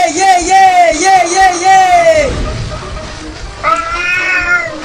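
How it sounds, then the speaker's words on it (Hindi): Drawn-out, high meows from a cat, several in a row, loud and close, with a short gap before another wavering meow. "वो देख, एक बिल्ली भी आ गई वाटर पार्क में नहाने के लिए।"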